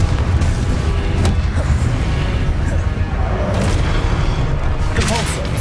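Spell blasts in the Hogwarts Legacy video game, Confringo explosions among them, boom repeatedly in dense rumbling bursts over loud ongoing combat noise, with voices shouting throughout.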